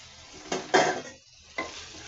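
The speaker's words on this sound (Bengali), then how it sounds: "এখন আমি চিংড়ি মাছ এবং গাটি কচু একসঙ্গে দিয়ে দিলাম।" Shrimp and taro root go into a pan of spices fried in oil. The sizzle flares in short close bursts and fades between them, with a brief quiet gap before a final surge.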